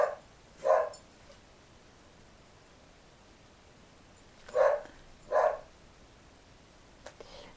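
A dog gives four short, sharp barks in two pairs, separated by a long quiet stretch, moderately near against a faint hiss.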